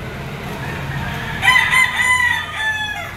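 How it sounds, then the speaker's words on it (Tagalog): A yellow-legged peacock gamecock stag crows at a rooster auction market in Lipa, a single loud crow standing out over steady background crowd noise. "Yellow legged peacock mga tol."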